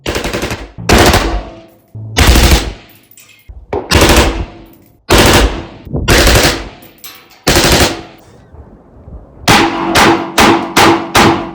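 A 7.5-inch direct gas rifle built on a Springfield Saint firing outdoors, a string of loud, sharp single shots spaced about a second apart, then a quick rapid burst of four or five shots at the end.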